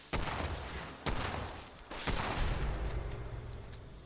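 Quad E Pipe Revolver fired in Fallout 76, three loud close gunshots about a second apart, each with a sharp crack and a rolling boom that lingers into the next shot.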